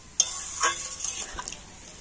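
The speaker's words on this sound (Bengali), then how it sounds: "তো আমি এখানে একটু গরম জল দিয়ে দিচ্ছি।" Hot water splashes into a pan of cauliflower curry, a sharp hit followed by a short sizzling, bubbling rush that fades within a couple of seconds, close and moderately loud.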